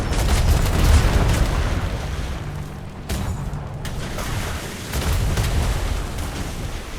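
Ship cannons fire from the port side in a roleplay video game, a rolling barrage of deep booms and rumbles with short gaps between volleys, loud and dense.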